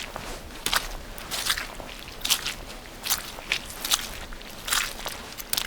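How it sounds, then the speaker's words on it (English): Footsteps slosh and squelch through wet mud in a steady walking rhythm, each step a soft, wet crunch close by, with no talking. "We're sloshing in the mud."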